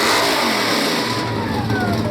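Old original car engine revving hard nearby, a loud rising and falling roar of acceleration heard alone without speech.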